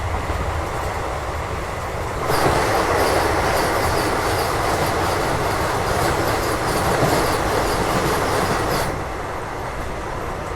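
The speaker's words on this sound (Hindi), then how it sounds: "तो ये देखा आपने वंदे भारत के साथ अपनी क्रॉसिंग" A Vande Bharat express train passes close by on the adjacent track, a loud sustained rush of rail noise with wheel clatter that swells suddenly, holds for several seconds, then drops back to the steady rumble of the moving train.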